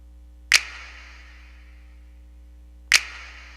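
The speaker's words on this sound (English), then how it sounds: "Alright, so I have a finger snap down here." Two crisp finger snaps, a couple of seconds apart, each trailing off into a long reverberant tail over a low steady hum.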